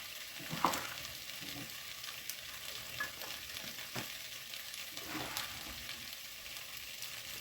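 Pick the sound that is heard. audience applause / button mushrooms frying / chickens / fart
button mushrooms frying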